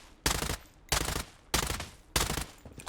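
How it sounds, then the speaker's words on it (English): An MP5 submachine gun in the shooter game Blood Strike fires in four rapid sprayed bursts, each a loud dense rattle of shots separated by brief pauses, with no talking. "when you spray the MP5, you notice I'm not controlling my recoil either"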